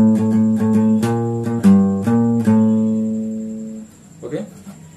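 Percussive acoustic guitar plays a Shiv Tandava Stotram pattern with sharp body taps struck between ringing low-string notes in a steady rhythm, close and loud, fading out near the end.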